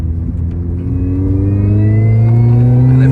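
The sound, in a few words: Mini Cooper S R53 supercharger whine while revving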